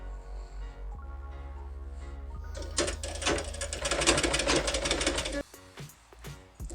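A domestic sewing machine stitches a blouse back neck in bursts, its motor whirring and needle clattering loudly, starting and stopping close by.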